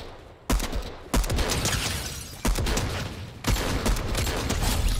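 Rapid bursts of automatic gunfire from a Fortnite match, several sharp loud volleys in quick succession, each opening with a hard crack and trailing into dense rattling fire.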